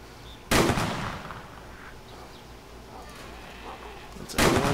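Two loud, sharp gunshots from a weapon in the video game DayZ, one near the start and one at the very end, with a quieter stretch of game ambience between them.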